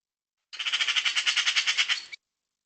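A bird gives a dry, rapid rattling call that sounds like wooden castanet clappers, one even burst of about twenty clicks lasting under two seconds, close and clear against silence.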